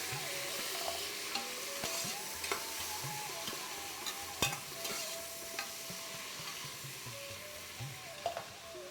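Mint leaves and garlic frying in a pan while making pepper chicken fry, giving a continuous crackling sizzle with frequent scraping stirs and clinks of a utensil against the pan.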